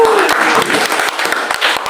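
An audience at a church prayer service claps briefly, a short burst of applause mixed with a voice at the start, loud and close.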